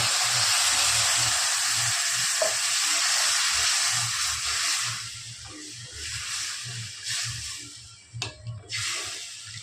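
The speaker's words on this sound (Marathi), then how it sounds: "यात 1 तांबे पाणी टाकणार." Water poured into a hot pan of spiced oil and masala for shev curry hisses and sizzles loudly at first, then settles into softer bubbling with occasional pops.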